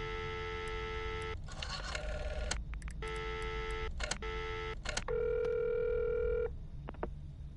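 A telephone in a video game rings with repeated electronic tones in steady bursts, interrupted by short clicks and crackles, ending on one longer, steadier tone over a constant low hum.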